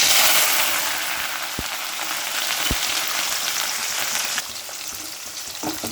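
Mustard seeds and fenugreek fry in hot oil with a dense, crackling sizzle, loud and close, with a couple of sharp pops early on and the hiss easing slightly near the end.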